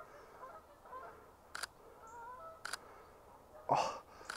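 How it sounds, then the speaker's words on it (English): Geese fly in over a fen at dawn, a few faint, distant honks spaced through quiet morning air, with several sharp camera shutter clicks standing out close by. "we've got some birds flying in somewhere"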